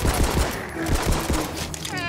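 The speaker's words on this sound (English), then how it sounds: "Who is shooting me?" Rapid, close bursts of automatic gunfire in the fantasy shooter Tiny Tina's Wonderlands, loud overlapping shots mixed with game effects and voices talking.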